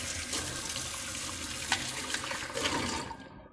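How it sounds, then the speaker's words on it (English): Running tap water pouring steadily into a sink as boiled rice is rinsed for baby food, a close, continuous splashing flow that tapers off at the end. "Let me give this a good wash or rinse"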